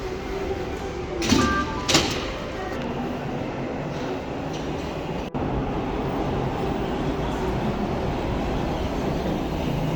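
A Toronto subway train rumbles past in a steady roar, with a couple of brief metallic squeals and a sharp clack partway through.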